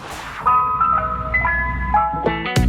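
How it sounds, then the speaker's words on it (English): A tinkling ice cream truck jingle plays loud and close, a bright chiming melody with no talking. "The sound of the ice cream truck is music to kids' ears."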